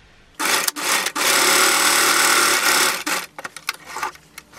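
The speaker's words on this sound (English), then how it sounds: "you're going to go ahead and sew the darts in place" A sewing machine runs in steady bursts while stitching darts on a wrap two-piece set, with one long continuous run broken by short starts and stops near the end, close and loud.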